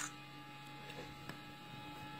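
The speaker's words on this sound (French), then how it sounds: "on entend qu'il y a le ventilateur qui est de petite taille en fait et qui fait pas mal de bruit" The small cooling fan of an iCodis CB200s portable projector gives a quiet, steady whir and hum, constant and unchanging, with no voices over it.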